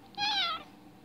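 A single short meow from a cat, close and clear, rising then falling in pitch over about half a second against a quiet room.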